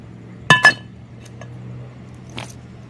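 Glass liquor bottles clink together in two quick, sharp knocks, followed by a fainter third clink a moment later over a low steady hum.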